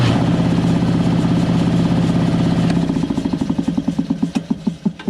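An air compressor motor, switched by a magnetic starter and pressure switch, runs loudly and close with a dense steady drone, then shifts into distinct rhythmic chugging pulses that gradually spread apart as it labors.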